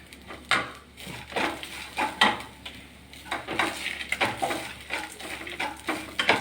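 Curry leaves and other ingredients sautéing in a pan, with repeated close metallic scrapes and clinks of a ladle over a light sizzle, in an irregular stirring rhythm.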